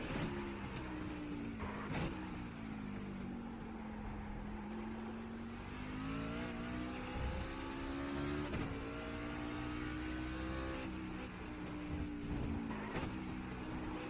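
A V8 race car at Virginia International Raceway brakes hard and its tires lock up, a loud engine drone sweeping down in pitch under a harsh scrubbing squeal, with brief sharp bursts along the way.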